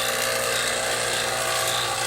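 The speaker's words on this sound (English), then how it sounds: "The vacuum pump's been running for 15 minutes now." A vacuum pump runs on a 2005 Town & Country car's A/C system, giving a steady, dense mechanical drone that holds at an even level throughout, close and alone with no voices.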